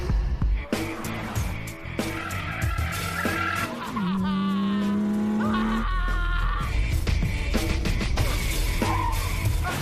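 A Mitsubishi Lancer Evo races in a film scene, its engine roaring loudly and continuously with a sustained tire squeal of skidding in the middle, set among music and other scene sounds.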